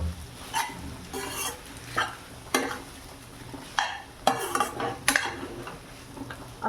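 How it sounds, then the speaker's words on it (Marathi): A spoon stirs sabudana khichdi made with boiled potato in a pan, giving repeated scraping, clinking strokes at a steady, unhurried rhythm. The sound is close and clear, with no talking. "आता मी ह्याला थोडंसं हलवून घेत आहे."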